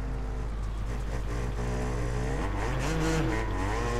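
A Yamaha YZ250 two-stroke motocross bike engine drones steadily in the MXGP Pro video game, then its pitch climbs and dips as the throttle opens around the middle. The engine sound is loud and continuous, with no talking.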